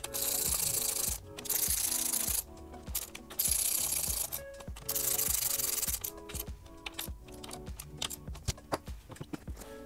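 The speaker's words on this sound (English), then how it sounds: "I'm gonna switch to my 8 millimeter socket for this next step and tighten all these guys down." Rapid metallic clicking of a ratchet with an 8 mm socket tightening bolts while fitting an integrated tail light and fender eliminator on a 2016+ Yamaha XSR900, in close repeated bursts with short pauses.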